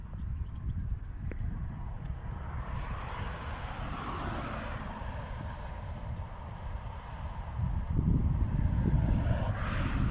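Wind blows steadily outdoors over green open countryside, a continuous low rumbling buffet on the microphone that swells louder near the end.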